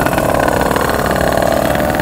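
A modified Yamaha Serpico two-stroke motorcycle idles close by, a steady, continuous buzzing putter that holds an even level throughout with no voices over it.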